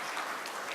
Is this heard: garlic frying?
no